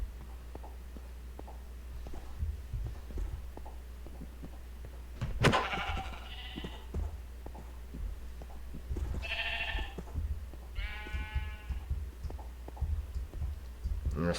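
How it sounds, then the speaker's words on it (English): Sheep in a video game bleat a few times over a low steady hum, with faint scattered clicks throughout; the bleats are mid-distance and short, spread across the second half. "No, they're sheep."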